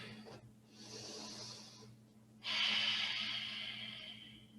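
Slow, deep breaths during a yoga pose, two airy, close breath sounds with a pause between, the second stronger, over a low steady hum.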